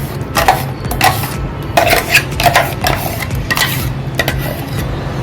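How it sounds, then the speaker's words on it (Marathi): Jowar idli batter mixed with urad dal and fenugreek flour, beaten by hand in one direction in a bowl; repeated scraping, sloshing strokes in a steady rhythm, close and fairly loud, with no talking. "पीठ एक दोन ते तीन मिनटासाठी फेटून घ्यायचं एकाच साईडला"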